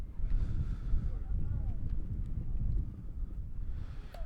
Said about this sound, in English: Crazy, crazy wind out here today in Elfrida